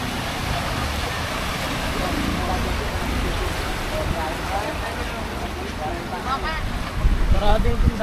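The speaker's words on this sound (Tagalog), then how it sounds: "Lakas kasi ng hangin" Strong wind gusts roar steadily across the microphone during a flood at a housing area, a dense broadband rush that swells louder near the end, with faint voices underneath.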